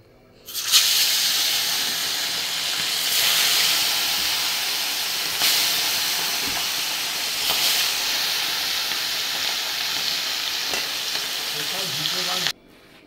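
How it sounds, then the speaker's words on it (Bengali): Parshe fish, rubbed with salt and turmeric, frying in hot oil in a wok: a loud, steady sizzling hiss that runs unbroken for most of the clip, with occasional louder spatters and no talk. "তারপর মাছটা ভেজে নেব।"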